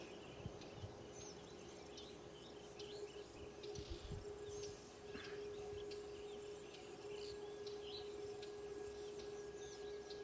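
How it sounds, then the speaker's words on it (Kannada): Birds chirp and twitter around a farm plot with young fruit saplings, light scattered calls over a steady insect drone, moderately distant with no talking. "ಹಕ್ಕಿಗಳ ಚಿಲಿಪಿಲಿ ನಾದ"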